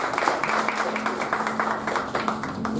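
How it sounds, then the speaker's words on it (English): Audience applause at a Toastmasters panel meeting: a steady wash of many hands clapping throughout, fairly close, with no talking over it. "All right, a big round of applause."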